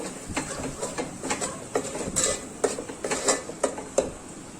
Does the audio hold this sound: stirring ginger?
yes